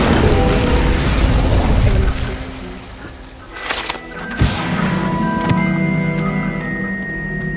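In Hogwarts Legacy, an Incendio fire spell goes off with a loud whooshing burst and crackling flare amid dense game effects and mechanical clatter, followed by a sharper pop.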